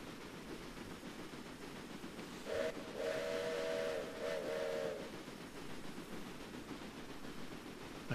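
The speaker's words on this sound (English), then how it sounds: "I even blew the whistle." Steam train whistle in the Railway Empire video game: a steady, mid-pitched blast of roughly two seconds rises over a constant rumble of rolling rail noise, with no voices.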